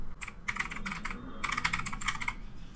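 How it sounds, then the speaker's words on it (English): Quick bursts of clicky keystrokes on a computer keyboard running Windows 11, typed in two short runs with a brief pause between, close and fairly quiet, with no talking. "Now here type optional features."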